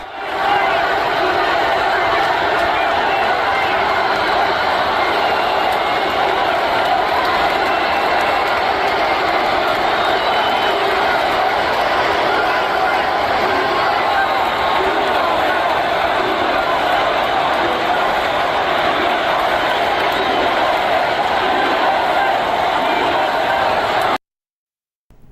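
A large crowd greets President Trump with a loud, sustained roar of cheering that holds steady for over twenty seconds before cutting out abruptly.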